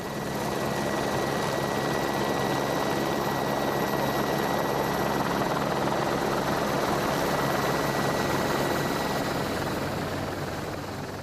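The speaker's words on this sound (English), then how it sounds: "This time, the cross was airlifted." A helicopter airlifts a summit cross in the Austrian Alps, its rotor and engine a steady, dense roar that stays loud and close throughout with no voices.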